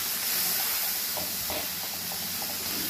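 Onions frying in a pan with salt and turmeric give off a loud, constant close hiss of sizzling oil and steam, with no voices over it.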